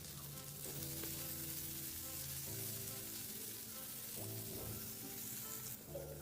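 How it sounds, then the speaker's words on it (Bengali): Sliced onions, green chillies and cashews fry in hot oil in a wok, giving a steady dense sizzle that fills the whole stretch, with faint clinks of a utensil now and then and no talk. "তেলের মধ্যে দিয়ে দেবো দুটো কেটে রাখা পেঁয়াজ আর কয়েকটা লঙ্কা আর দিয়ে দেবো কয়েকটা কাজু। এগুলোকে আমি হালকা করে ফ্রাই করে নেব"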